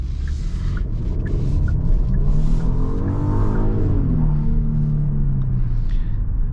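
A 2022 Genesis GV80 SUV pulls away from a dead stop, its engine note rising smoothly as it accelerates, heard close from inside the cabin over steady road rumble, with no talking.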